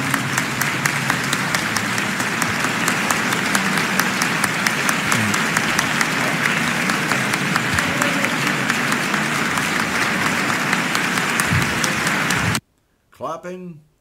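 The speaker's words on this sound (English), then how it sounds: "Clapping for a bunch of scumbags." Sustained applause from a large audience at a political rally, dense and even crowd clapping running for about twelve seconds before cutting off, followed by a brief bit of talk.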